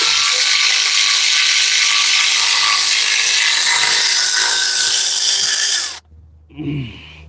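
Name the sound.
ratchet unhooking power steering pump on 1968 Thunderbird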